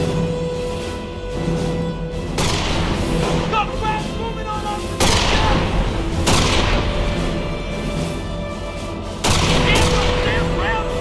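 Gunfire from the Company of Heroes strategy game on the Egletons map, with several loud bursts of shots and booms coming in waves about every few seconds over a dense battle din.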